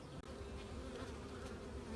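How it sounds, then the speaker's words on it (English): Honeybee workers buzzing at the hive while tending brood, a steady close droning hum from many insects with no talk. "These worker bees are tending to the brood."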